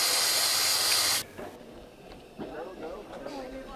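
A narrow-gauge steam locomotive lets off a loud, steady hiss of steam that cuts off abruptly after about a second, leaving quieter clanks and background sounds.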